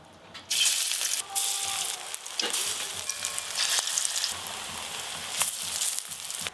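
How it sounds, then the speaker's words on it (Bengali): Drumstick flower fritters go into hot oil and the frying bursts into a loud, dense sizzle after a quiet start. It keeps hissing and popping up close, with short dips as more batter drops in. There is no speech. "সজনে ফুলের বড়াগুলো এবার ভেজে নেব।"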